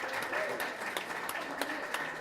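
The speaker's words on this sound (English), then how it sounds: "let's give a round of applause and a warm welcome to Lewis and Jake." Scattered applause welcomes two speakers onto a stage, a modest, sparse patter of individual claps at moderate distance, with a voice briefly heard beneath.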